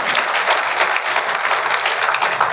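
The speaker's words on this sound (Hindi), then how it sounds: "ताली जोर से बजा दीजिए।" Audience applause fills a hall at the first Kanshi Ram memorial lecture, a dense, steady burst of many hands clapping at once, loud and sustained without a break.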